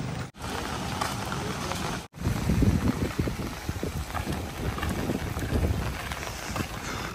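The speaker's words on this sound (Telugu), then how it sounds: "అది గాలి ఫుల్గా వస్తుంది" Strong wind buffets the microphone in loud, rumbling gusts on a rainy roadside walk near Rajahmundry, with two brief dropouts near the start.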